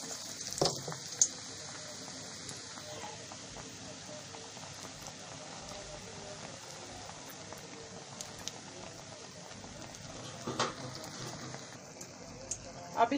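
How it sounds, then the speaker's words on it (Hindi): Bread pakora frying in hot cooking oil, a steady low sizzle and bubble running throughout with a few brief clatters, fairly faint and continuous. "अब इसकी हम दूसरी साइड फ्राई कर लेंगे। इसकी एक साइड हमारी फ्राई हो चुकी है।"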